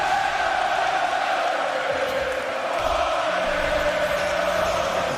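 Rocket League match crowd cheering during a grand finals game, a steady broad roar of many voices held loud and continuous throughout, with music or tonal game sound running underneath.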